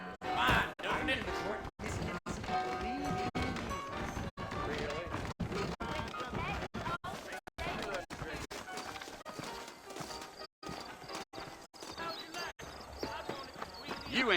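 Saddled horses in the video game Red Dead Redemption trot with steady clip-clop hoofbeats, set under continuous talk and a dense game soundtrack.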